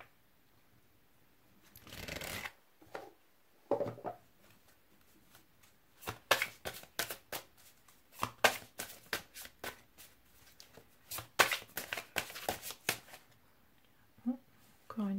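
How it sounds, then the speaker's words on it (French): Haiku oracle cards being shuffled and drawn, giving bursts of quick crisp riffling and flicking at close range, separated by brief pauses and a few soft handling taps. "Je vous propose de tirer une carte de l'oracle des haïkus."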